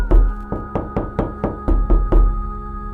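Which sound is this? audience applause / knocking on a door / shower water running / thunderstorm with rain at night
knocking on a door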